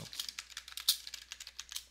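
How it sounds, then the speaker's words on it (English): Rapid, fairly quiet clicking of a computer keyboard during programming work, with steady irregular keystrokes and no talking. "I know you gotta love my typing."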